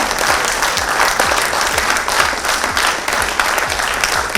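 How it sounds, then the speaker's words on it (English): A panel discussion audience claps loudly and steadily, many hands close by creating a dense, unbroken roar that lasts the whole stretch. "No, you should clap loudly"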